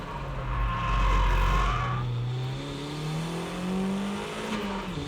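A drift car, compared against a Nissan S14, brakes and turns into a corner. The engine drone is loud and drops in pitch, then rises again as the throttle comes back, with faint tire noise and no talk.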